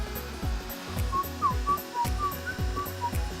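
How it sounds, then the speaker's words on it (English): Someone whistles a melody along to the soundtrack of the Sega Saturn game OutRun, a wavering tune over steady rhythmic music with drum hits. "Don't mind me whistling, it's just such good music."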